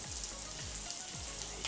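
Meat browning in a frying pan sizzles steadily and closely, a dense crackling hiss with no voices over it.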